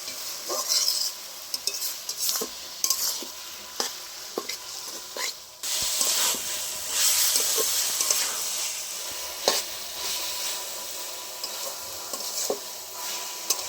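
Onion, garlic and ginger paste with spices sautéing for a mutton curry, a loud continuous sizzle broken by repeated scrapes and knocks of a spatula stirring in the pan.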